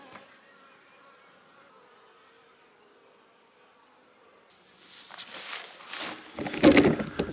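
Bees from a newly acquired swarm hum faintly at first, then the buzzing grows louder and busier with rustling nearby as the swarm moves close around the hive.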